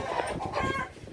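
Roosters cluck close by in a short run of soft, choppy calls, a few quick notes over quiet background.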